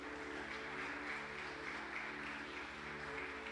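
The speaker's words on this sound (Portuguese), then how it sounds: "Dê uma salva de palmas para o Senhor." A church congregation applauds in a dense, unbroken wash of clapping that holds steady throughout, over a low sustained hum.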